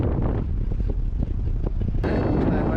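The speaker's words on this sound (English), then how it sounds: "A little bit of wind." Light wind rumbles against the microphone outdoors beside a windsock at an airfield, a steady low buffeting that becomes louder and fuller in the last second.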